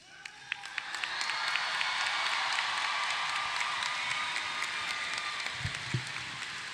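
Applause and light cheering from a crowd at the Kettle Run High School graduation ceremony for the class of 2026: a dense, sustained wash of many hands clapping that builds quickly and holds steady, with no speech over it.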